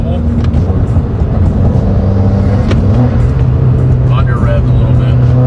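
Turbocharged car engine pulling hard under load after a fuel system repair, a loud, close rumble with rising rev tones and strong wind noise, with voices talking over it.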